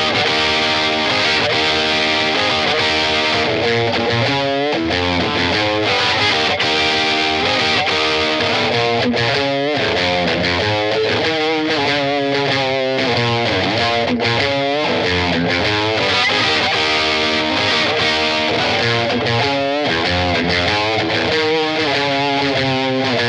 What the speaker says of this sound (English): boosting it to get us the overdrive tone sound like this.